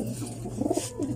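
Pigeons coo close by in a short, soft burst of warbling calls over a steady low background hum.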